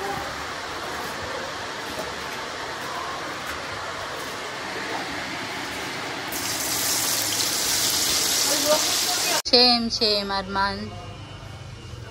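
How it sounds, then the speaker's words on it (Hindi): Dense, steady rain hisses continuously, growing heavier and louder partway through, before a voice cuts in near the end. "बारिश हो रही है बहुत ज़्यादा"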